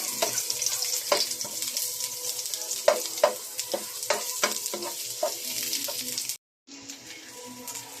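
Chopped garlic and onion sautéing in a pan for Bicol-style laing, a steady sizzle broken by repeated scrapes and knocks of a stirring utensil, then a brief gap before the frying resumes.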